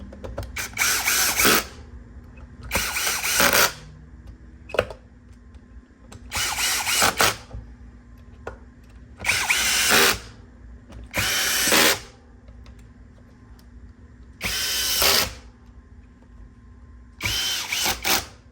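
A power drill drives screws into an Xbox Series S console, sounding in about eight short whirring bursts separated by quiet pauses, loud and close.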